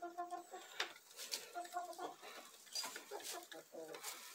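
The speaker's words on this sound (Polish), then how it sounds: "to jest kura." A laying hen clucks repeatedly in a backyard poultry flock, short rhythmic clucks in bursts with brief pauses, close and moderately loud, with some other faint bird calls around.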